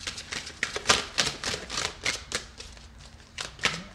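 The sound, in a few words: shuffling a deck of cards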